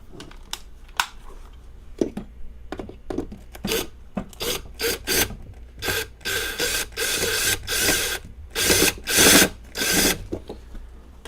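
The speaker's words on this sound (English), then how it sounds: "I need a different bit, I guess, because this is going to strip these screws out" A screwdriver bit scrapes and grinds on screws while they are taken out of an amplifier, giving short rasping bursts and clicks that start sparse and grow into longer, louder scraping runs, close up and with no talk.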